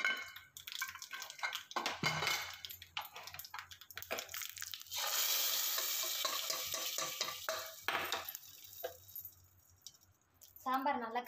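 Tempering with curry leaves is poured into lentil sambar, a burst of close sizzling and metallic clinks followed by splashy stirring and scraping in a pot, loud and uneven with pauses.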